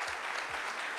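Audience applause at a testimonial panel, a quick steady patter of clapping heard for about a second, fairly soft and without voices over it.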